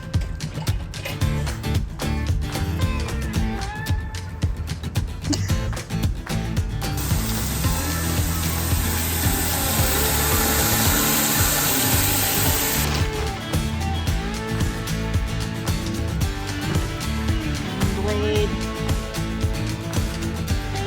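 Rock saw blade grinding through big river rocks from the Sandy River, a continuous loud rasping, whining cut that grows harsher and brighter for several seconds midway, then settles back into steady grinding.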